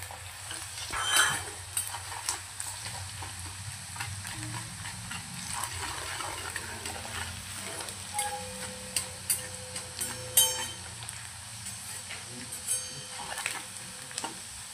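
Onion frying in a pan with salt for rava upma, a soft steady sizzle with intermittent scraping and stirring clicks from a utensil, quiet and close.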